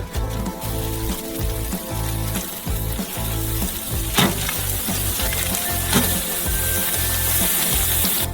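Hand-formed burger patties sizzle and fry on a grill, a steady crackling hiss running throughout at close range with a few sharper pops, with no talking over it.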